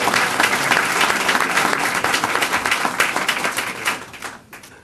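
Applause from the audience at a school district board meeting after a unanimous vote, a dense burst of many hands clapping steadily before gradually thinning out and stopping near the end.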